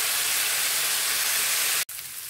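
Ginger garlic paste fries in a pan for a Kerala coconut milk fish curry, giving a steady, dense sizzling hiss that cuts out briefly near the end and then resumes.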